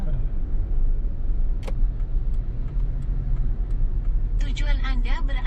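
A car engine hums low and steady from inside the car as it pulls in to park along a roadside by shops during a road trip in Sumatra. People talk over it, and a brief chirp and a rising electronic beep come near the end.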